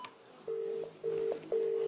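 Touch-tone telephone dialing from a hotel phone: three or four distinct DTMF key beeps, each a steady tone lasting about a third of a second, close and clear with short gaps between, no voices.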